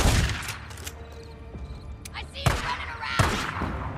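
Loud shotgun blasts boom in the video game Days Gone, several heavy shots over a few seconds amid rumbling in-game combat noise.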